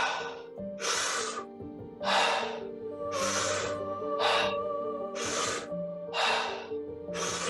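Deep, intense Wim Hof method breaths are drawn through the mouth, about eight forceful, evenly paced breaths in a row. Soft meditation music plays steadily underneath.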